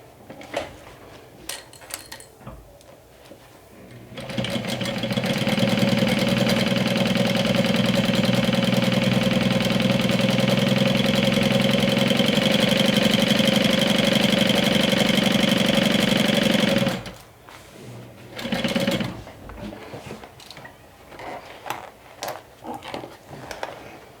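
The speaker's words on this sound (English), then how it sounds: "if you're using your home sewing machine, when you sew like this" A home sewing machine topstitching runs in one long, steady burst, a loud mechanical whirring hum that stops abruptly, with quieter rustling and handling sounds before and after.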